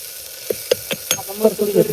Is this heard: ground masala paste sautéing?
yes